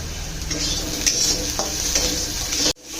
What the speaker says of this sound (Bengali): গ্যাসের ফ্যামটিকে হাই রেখে এই পেঁয়াজ আর ক্যাপসিকামগুলোকে ফ্রাই করে নিতে হবে